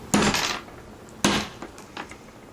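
Two sharp hammer taps strike a spent Berdan primer in a cartridge case, spaced about a second apart and followed by a lighter metallic tick, close and clear with no talking.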